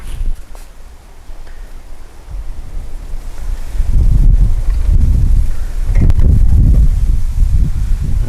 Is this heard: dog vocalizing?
no